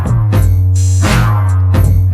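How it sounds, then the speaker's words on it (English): A deep electronic kick drum thumps steadily, with a sustained low bass tone and bright synth swells repeating in a looping beat. "one kick drum"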